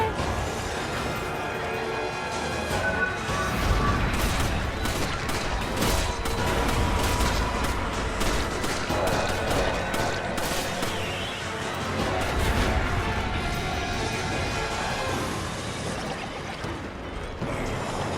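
Dense, loud game-battle audio from Resident Evil 5 with grenade blasts and booming impacts layered over continuous rumbling action noise, sustained for the whole stretch without clear pauses.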